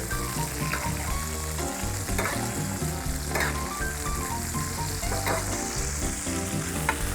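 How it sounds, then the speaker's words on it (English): Steak basted with butter, sage and herbs in a cast iron pan: a loud, continuous crackling sizzle with occasional spitting pops and faint spoon movements, steady throughout. "I'm just bringing the butter down, bringing the herbs"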